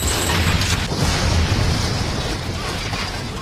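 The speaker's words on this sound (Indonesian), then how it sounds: "menghancurkan toko itu dengan meledakkannya oleh sebuah tembakan" A gunshot sets off an explosion that destroys a shop, a loud rumbling boom with crackling debris that slowly fades, a voice talking over it.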